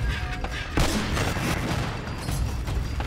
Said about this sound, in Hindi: कोई और भी है सामने से गोली चला रहा है